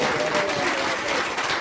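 Studio audience at a radio comedy panel show breaks into steady, dense applause that fills the whole brief moment, loud and close, with no talk over it.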